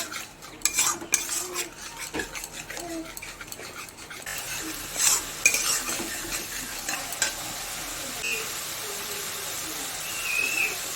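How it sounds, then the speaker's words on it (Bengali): Spices with chili powder and yogurt are stirred and fried in a pan, giving soft scraping and clinking strokes over a faint sizzle, fairly quiet and close. "দিয়ে মশলাটাকে একটু কষিয়ে নেব।"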